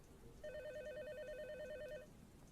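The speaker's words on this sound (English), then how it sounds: "a phone call came in" A telephone rings with a single warbling electronic trill lasting about a second and a half, fairly clear over a low background hiss, signalling an incoming call late at night.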